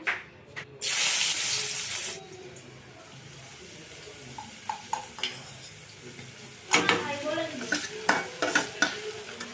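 Banana flower and potato fry in a home kitchen pan: a loud burst of sizzle at the start, then quieter cooking with scattered clinks and scrapes of a utensil against the pan.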